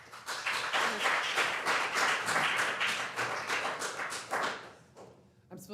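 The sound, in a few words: audience clapping at city council meeting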